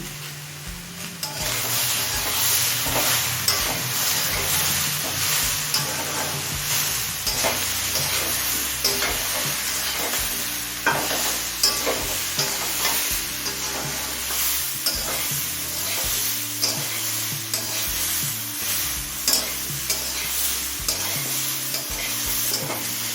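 Ground turmeric, chili, cumin and salt are stir-fried in a pan for a Bengali panchmishali vegetable curry, a continuous loud sizzle under repeated scraping strokes of a spatula, close up, with no voices.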